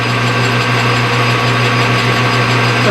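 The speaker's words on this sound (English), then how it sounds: "me going ahead and drilling it 2 inches deep" A drill boring two inches deep into a metal carburetor breather stud, heard as a loud, steady motor whine with a strong low hum, continuous and close with no pauses or talk.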